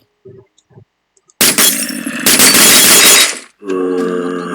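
In Minecraft with the Techguns mod, a loud crash of shattering glass bursts in after a few soft taps, followed by a sustained bright synthetic tone like a game effect.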